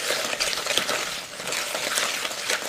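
A wooden spoon beats eggs into pound cake batter in a bowl, making steady wet stirring and scraping sounds up close, with no voices.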